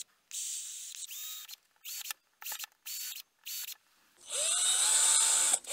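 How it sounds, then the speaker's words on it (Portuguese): A nail punches holes into a plastic bottle cap, giving a series of short, sharp, close bursts with brief pauses, then a longer scraping push at the end, with no talking. "Então eu vou pegar aqui um prego para furar."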